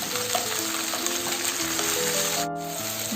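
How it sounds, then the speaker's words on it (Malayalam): Tomato sautés in a pan after ginger has been added, for a dhaba-style green peas masala. The sizzling and stirring stay loud and continuous, with no voices. "ഇനി ഇതിലേക്ക് ഒരു തക്കാളി ഇട്ട് കൊടുക്കാം. ഇനി ഇത് നന്നായിട്ട് അങ്ങോട്ട് വഴറ്റിയെടുക്കണം."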